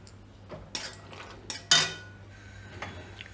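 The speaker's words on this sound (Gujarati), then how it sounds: "હવે આપણે આ ડ્રાય ફ્રૂટ બધા નાખી દઈશું" Dry fruits are tipped into sugar syrup in a pan for mixed dry fruit laddoos, giving a few sharp utensil clinks and knocks against metal, spaced over a few seconds, with one louder clatter near the middle and a low steady hum beneath.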